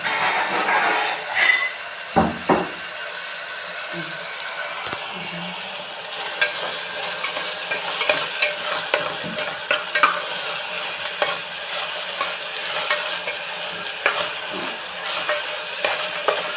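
Sambar mixture being stirred in a hot pan, Karnataka-style idli sambar, with a steady sizzle of frying and repeated scraping and clinking strokes of a spoon against the pan, close and continuous for the whole stretch.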